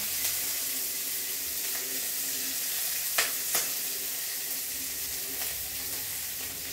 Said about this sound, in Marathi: थोडासा कांदा परतून घेणार आहे